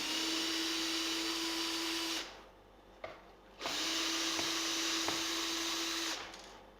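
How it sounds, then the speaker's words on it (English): A power drill whines steadily as it backs screws out of an electric guitar bridge, running in two long bursts with a short pause between them, close and loud, with no talking. "just going to use my drill to take the bridge out, it's quicker."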